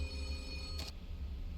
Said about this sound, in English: Is that phone ever gonna stop ringing?